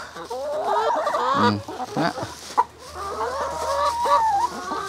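Hens cluck in short, repeated bursts close by on a cage-free backyard poultry farm in Cebu, with a few sharper squawks, continuing over a low steady hum.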